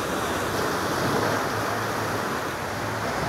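Ocean waves along the Hawaii coast, a broad steady wash of surf with some wind noise on the microphone, continuous and fairly loud with no speech.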